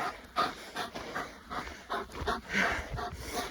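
A young dog around two years old panting close by in rhythmic, breathy bursts, with occasional soft whimpers between breaths.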